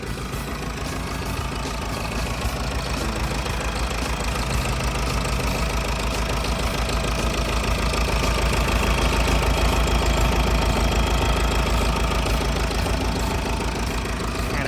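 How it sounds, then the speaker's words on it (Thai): A Komatsu WR11 wheel loader's four-cylinder turbo diesel engine idles steadily up close, a continuous rumbling drone with a rapid knocking pulse and no voices. "เครื่องยนต์4สูบเทอร์โบนะครับ"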